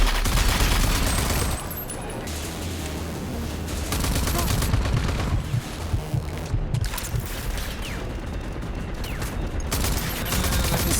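Bursts of video game gunfire, rapid shots and automatic fire packed closely together, loud and continuous throughout with heavy low thuds, and only faint voice underneath.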